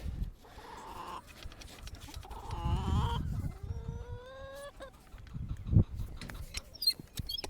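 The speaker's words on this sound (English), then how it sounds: "All right, chickens need some water." Backyard chickens cluck and squawk close by, irregular calls rising and falling, including a drawn-out crowing-like cry, with rustling and thumps in between and no talk.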